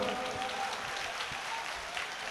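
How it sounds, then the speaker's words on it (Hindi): Audience applause at a Hindi poetry recital, a steady wash of clapping hands sustained through the whole stretch with no clear breaks, moderately loud and fairly close. "इसलिए एक बार जोरदार तालियां बजा दो"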